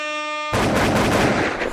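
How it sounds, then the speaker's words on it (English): Gunshot sound effects, a dense burst of loud shots and blasts that erupts after a short steady horn-like tone and carries on, harsh and close, to the end. "Throw some gunshots in there."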